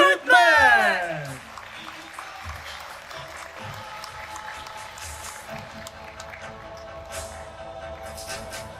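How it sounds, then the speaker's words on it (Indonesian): An audience at a theatre performance of The Recruitment, part of a combined performing-arts show, bursts into loud clapping that quickly fades to lighter, scattered applause beneath voices and background sound. "berikan tepuk tangan yang meriah untuk The Recruitment"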